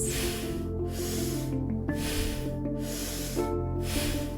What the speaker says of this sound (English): Take your last 3 breaths.